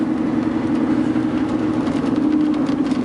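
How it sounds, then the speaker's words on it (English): Aggressive dually tires on a 2002 Chevrolet Silverado 3500HD drone steadily from inside the cab while driving, a constant low hum mixed with engine and road noise, with no talking. "You can hear a little tire noise,"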